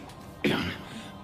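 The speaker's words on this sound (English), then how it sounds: "Let's hope he doesn't clear his throat." A cartoon character gives one short, gruff throat-clearing cough, a brief loud burst standing alone.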